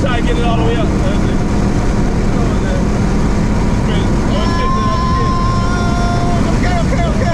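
Modded Chrysler 300 accelerating hard, its engine a loud, steady roar that holds for the whole stretch while people shout and talk excitedly over it.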